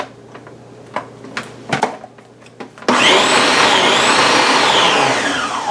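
A blender purees roasted tomatillo salsa with onions, its motor suddenly kicking in to a loud, steady whir. A few soft taps and knocks come beforehand.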